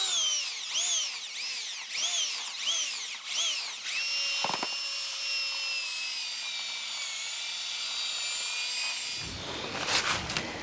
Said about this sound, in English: I'm going to use my auger again, and we're going to just blend this rabbit manure into this compost.